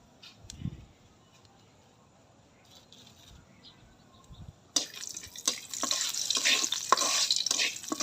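Cinnamon and cardamom drop into hot ghee for a beef korma, and after a quiet start a loud, dense sizzle bursts up and keeps crackling steadily close by.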